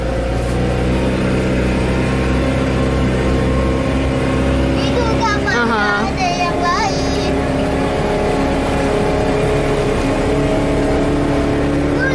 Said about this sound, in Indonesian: Nah, itu kapalnya udah datang.